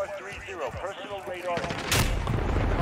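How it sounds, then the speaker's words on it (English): Bullets fly in a Fortnite match as a short burst of gunfire, with rapid shots rising near the end, heard under a player's talking. "yo, where did those bullets come from?"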